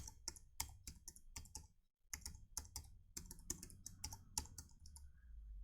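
Quick bursts of keystrokes on a computer keyboard as a Wi-Fi password is entered, clicks arriving in irregular clusters with a brief pause midway, close and fairly loud with no talking.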